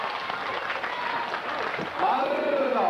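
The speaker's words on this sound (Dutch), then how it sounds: "Applaus naar Marcel Blanke, 60 meter in de liedje." A crowd at an outdoor strongman competition claps and cheers for a competitor, a dense, moderately distant patter of applause with a voice speaking over it near the end.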